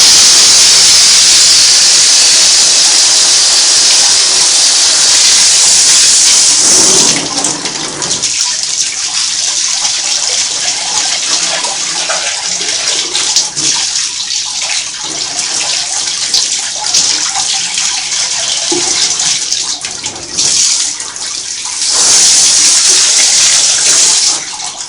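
Water rinses the bottom area of a Singer Model 503A sewing machine body. A loud, continuous hissing spray runs close and unbroken, dipping slightly in intensity as the stream shifts.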